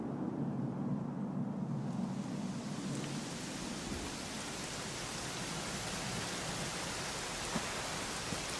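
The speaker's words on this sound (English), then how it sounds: "it was raining like this the last time I ever saw her" Steady rain in Dragon Quest 11 pours down in a dense, hissing wash, with a low rumble early on that fades as the downpour fills in.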